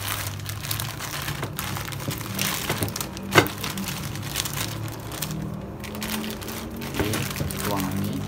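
Liquid is poured out of a container in a steady, rushing stream, with light plastic crinkling and a sharp knock partway through, all heard close up.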